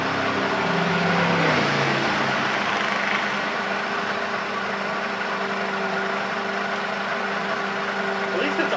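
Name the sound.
Mercedes SLK230 engine idling and rattling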